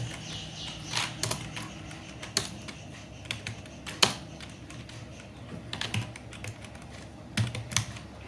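Someone types a madrasa name on a computer keyboard: scattered bursts of key clicks, some sharper taps standing out, close by and fairly quiet, with no talking.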